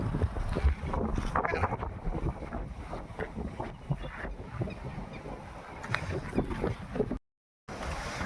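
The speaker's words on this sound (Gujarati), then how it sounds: "જોરદારનો પવન છે" Strong wind gusting across open village farmland with crops and trees, a rough continuous rumble of wind buffeting the microphone, loud and unsteady, cut by a brief dropout near the end.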